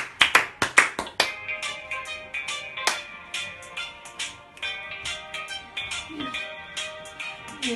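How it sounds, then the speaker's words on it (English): Children clap along to a sung action song, sharp bursts of hand claps in time with the beat, loud and close at first and then lighter, under a melody. "If you're happy and you know it, clap your hands."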